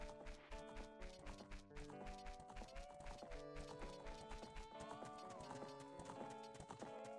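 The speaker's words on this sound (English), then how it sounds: "I hear a horse." Horse hooves clip-clopping in the video game The Legend of Zelda: Ocarina of Time, a rapid steady galloping rhythm under game music, with a brief neigh and no talking.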